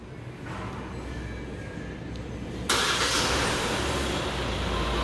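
Hyundai Staria engine started by remote, heard from outside the van: a steady background hum, then the engine catches with a sudden jump into a loud, even idle roar.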